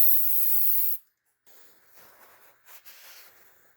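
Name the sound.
spraying CRC QD electronics cleaner on throttle body parts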